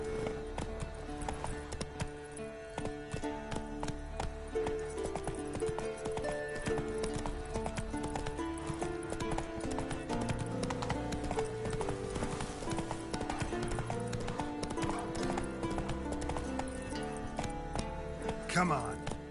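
The horse Roach gallops with rapid rhythmic hoofbeats in The Witcher video game, continuous clip-clop under layered game music, with a brief whinny near the end.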